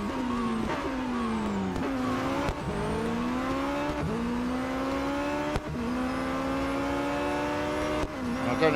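A Radical SR10 XXR race car engine in Real Racing 3 revs hard and continuously, its pitch climbing through each gear and dropping sharply at every upshift, loud and close throughout.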